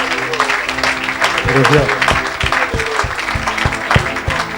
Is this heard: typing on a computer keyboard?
no